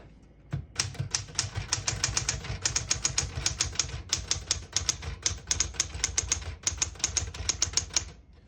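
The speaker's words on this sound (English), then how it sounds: "The Super Sterling is an excellent typewriter for daily typing and casual, whatever you do." A 1967 Smith-Corona Super-Sterling portable typewriter types steadily: a rapid run of sharp, close key strikes and typebar clacks with a few brief pauses, alone without voices.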